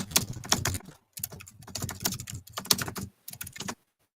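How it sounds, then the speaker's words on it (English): Rapid clattering keystrokes on a computer keyboard come in close, loud bursts separated by short pauses, with no talking. "Could y'all hear that typing?"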